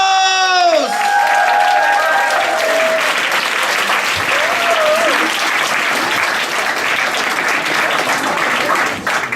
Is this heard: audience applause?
yes